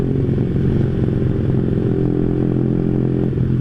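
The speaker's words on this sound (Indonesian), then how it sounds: "Ini throttle bodinya berisik banget." A motorcycle with a noisy throttle body is ridden past an MRT station, its engine a steady, loud, low drone throughout with rattling clatter.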